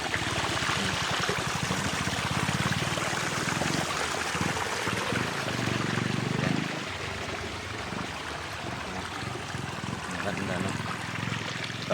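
Steady broadband rush of river water flowing at Enchanted River, a constant near wash of trickling and streaming with a brief deeper swell midway, and faint voices underneath.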